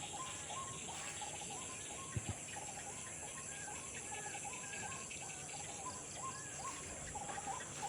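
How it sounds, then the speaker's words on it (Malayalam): Birds chirp and call in the open air around an old market area of a village ward, a steady busy chorus of small tweets over a constant insect-like hiss, with no talk. "പക്ഷികൾ ചിലക്കുന്ന സൗണ്ട്."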